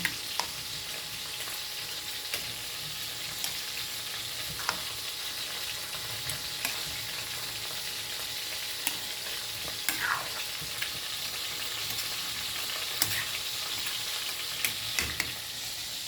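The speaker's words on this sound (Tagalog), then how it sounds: "At saka nagpiprito ako ng isda." Steady, close sizzling of fish frying in hot oil in a pan, a continuous crackling hiss with occasional sharper pops and spatters throughout.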